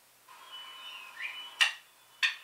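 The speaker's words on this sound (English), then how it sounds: "That was the sound of a hammer pounding a nail in slowly" A hammer slowly drives a nail with two sharp, separate strikes about half a second apart, over a faint whistling tone in the background.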